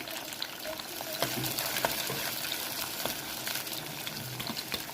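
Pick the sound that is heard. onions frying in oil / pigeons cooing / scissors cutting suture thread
onions frying in oil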